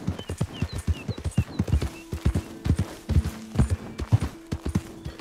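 Steady clip-clop of horse hooves trotting in the video game Red Dead Redemption 2, close and rhythmic, with a sustained low musical tone underneath and faint chirping birds in the background.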